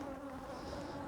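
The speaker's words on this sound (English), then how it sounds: "I'm kind of being pinned by bees, which is really annoying." Honey bees buzz steadily and closely around an opened beehive during a varroa mite treatment, forming a continuous droning hum with no voices.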